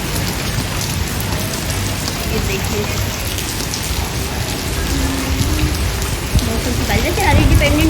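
Steady rain pours and patters on surfaces nearby during an August downpour, a dense continuous wash of drops with brief talk over it.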